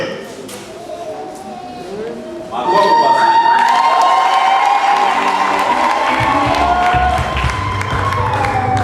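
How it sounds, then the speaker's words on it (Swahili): Quieter murmuring at a wedding gives way to a sudden swell of crowd cheering, clapping and children shouting that stays loud and sustained to the end. "Makofi basi."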